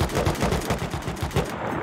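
Rapid automatic gunfire from the survival video game Rust, a dense stream of loud bursts repeating quickly and steadily at close range, with no talk over it.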